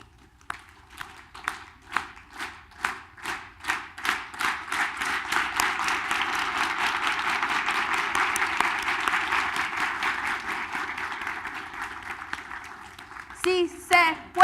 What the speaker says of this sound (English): Here's the unity clap.